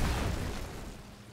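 Corpse explosions in the action RPG Diablo Immortal, a single short muffled boom with a low rumbling burst that quickly fades, heard alone.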